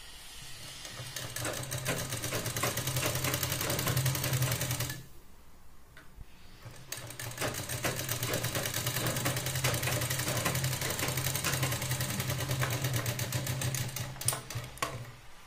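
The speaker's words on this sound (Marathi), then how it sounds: "या पॉइंटला आपण डबल शिलाई लावून घेऊ।" A sewing machine double stitching a prince-cut blouse runs in a fast, steady mechanical chatter close by, stopping for about two seconds midway, then resuming with the same even rhythm.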